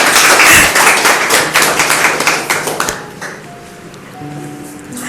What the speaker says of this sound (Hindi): उनके लिए जोरदार तालियां हो जाए।